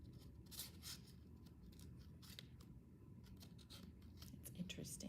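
Scissors trimming paper for a handmade vintage-style Valentine's Day card, several quiet close snips in an irregular rhythm at low volume.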